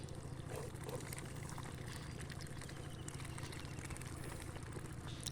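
Water is poured while duck feed is being mixed, making a faint, steady trickling splash that continues without a break.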